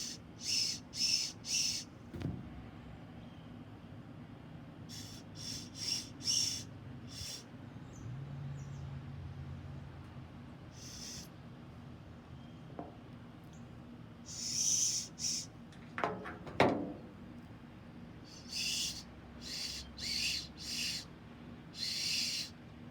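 Whistle carved from a hickory sapling limb, blown in short, high, breathy toots in quick clusters with pauses between, fairly faint over a quiet outdoor background.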